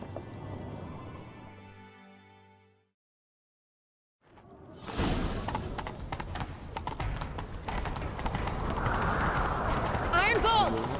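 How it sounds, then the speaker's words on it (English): In The Witcher 3, a horse gallops with rapid clip-clop hoofbeats after a short silence, fast and rhythmic and fairly loud, mixed with whooshes and game sounds. A musical tone fades out beforehand. "Grab a horse, we'll chase him down."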